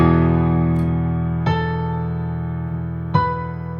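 A piano plays a riff, a few sustained notes struck one after another with ringing decay, unaccompanied.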